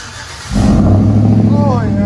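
A 2012 GMC Sierra SLE with a 5.3L V8 and Vibrant dual exhaust, Y-pipe and bottle resonator rumbles low, then kicks up into a loud, deep rev about halfway through, with someone talking over it.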